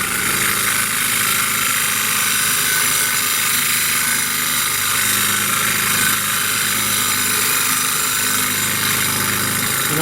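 A grinding wheel sharpens a woodturning tool, giving a steady, loud, close motorised whine and hiss that holds unchanged for ten seconds without any talk.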